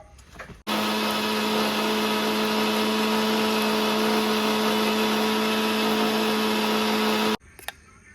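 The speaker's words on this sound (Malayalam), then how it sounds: "അതിനുശേഷം മിക്സിയുടെ ജാറിലേക്കിട്ട് നന്നായിട്ടൊന്ന് അരച്ചെടുത്തു കഴിഞ്ഞാൽ സ്വാദിഷ്ടമായ നമ്മുടെ ചമ്മന്തി റെഡിയായി" A mixer grinder blends chutney in its jar with a loud, steady, high whirring drone that starts abruptly, holds evenly for about seven seconds, then cuts off.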